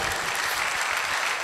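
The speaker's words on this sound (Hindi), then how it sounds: "ताली बजाइए सुना तो" A congregation claps at a Sunday Mass, a brief, steady burst of many hands applauding together at moderate volume.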